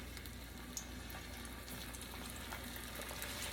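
Plantains fry in a pan of oil, a faint, steady sizzle and bubbling hiss running evenly throughout with a tiny click early on.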